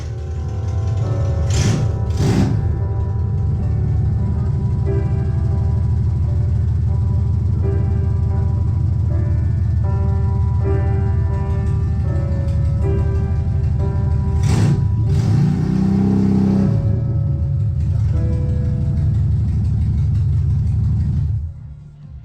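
A classic Mini engine running with no exhaust fitted churns steadily and loudly, with a couple of brief revs near the start and again midway, then cuts out near the end.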